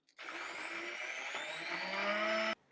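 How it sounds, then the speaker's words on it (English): A hand blender attachment purees the falafel curry mixture, a steady close whirring drone that holds for about two seconds, its pitch creeping slightly upward, then cuts off abruptly. "now I'm going to make the puree using this different attachment, the hand blender attachment"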